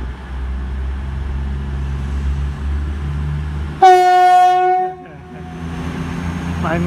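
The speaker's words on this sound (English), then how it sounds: "is a class 222 going to be leaving platform 2 of Leicester station going to Sheffield" A Class 222 diesel train at Leicester station, platform 2, rumbles steadily before a loud, sudden two-tone horn blast cuts in for about a second, then the engine noise drops and idles on.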